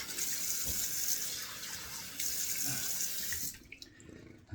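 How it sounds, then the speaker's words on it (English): Water runs steadily from a tap into a sink, a close hissing stream that cuts off near the end. "Let me turn on cold water here."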